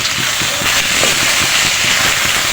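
Ginger and garlic paste lands in hot oil with softened onions and fries for chicken tehari, a loud, steady sizzle and crackle with dense spitting pops throughout.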